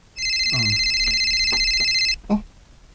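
A mobile phone rings nearby with a bright, steady electronic tone lasting about two seconds, followed by a brief voice.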